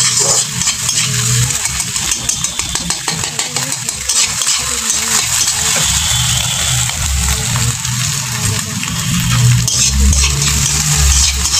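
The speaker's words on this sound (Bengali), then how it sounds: "আমি এখানে পরিমাণ মতো সরষের তেল দিলাম।" Mustard oil hitting a hot pan with salt, turmeric and cumin for a sweet pumpkin dish, a loud, dense, steady sizzle and hiss close by, with stirring rattles underneath.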